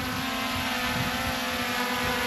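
A DJI Mini 4 Pro drone lifting off on its own, with a steady, loud propeller whine and buzzing rotor hum held close and continuous, no talking.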